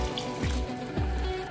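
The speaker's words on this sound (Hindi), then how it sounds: "अब मैं इसमें 1 कप गर्म पानी ऐड कर रही हूँ।" A cup of hot water pours into a cooking pan of softened tomatoes for a restaurant-style paneer lababdar gravy, giving a steady close splashing rush with two short gurgling surges.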